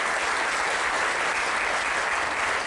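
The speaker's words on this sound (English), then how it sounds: "let's give a big round of applause to the staff here at Lake Sammamish State Park" Outdoor crowd at a spring breakfast event in Lake Sammamish State Park applauds the park staff, a continuous dense wash of clapping at steady moderate loudness throughout.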